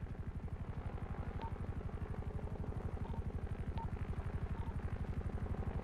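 A helicopter in GTA V roleplay beats steadily with fast, even rotor chops, constant and moderately distant, with a faint tonal whine and no voices.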